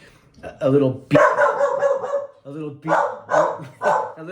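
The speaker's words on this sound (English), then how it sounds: "That's my dog" A dog barks and yips repeatedly, loud and close, in rapid bursts indoors during an interview.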